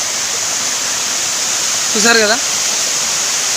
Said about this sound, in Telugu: వేణుతల కోన వాటర్ ఫాల్స్ ఇవి బాగా ఫుల్గా పడుతున్నాయి వాటర్